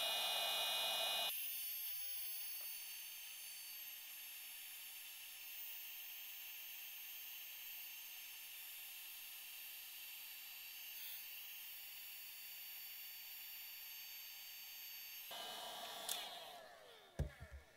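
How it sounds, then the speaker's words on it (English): Heat gun blowing hot air onto heat shrink tubing over battery charger cables, a steady loud hiss that runs continuously before cutting off, followed by a few faint handling clicks. "so we just get the heat gun, and we're just going to heat up the"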